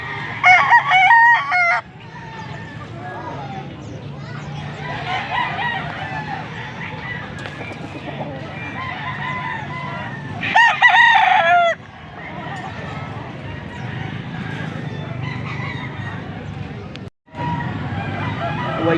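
Boston-breed gamefowl roosters crow repeatedly and cluck at a busy cockfighting venue in Angeles City, Pampanga, with loud close crows standing out over steady crowd chatter and background voices.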